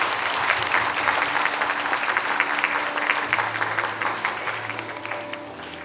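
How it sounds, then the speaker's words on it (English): Loud, sustained applause from a large audience at a Buddhist conference in Penang, Malaysia, a dense wash of clapping filling the hall evenly throughout, with no one speaking. "请大家给予热烈的掌声。"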